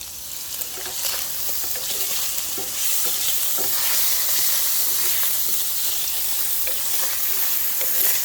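Homemade chili sizzles and bubbles steadily in a pot, a soft continuous hiss with scattered small pops and crackles.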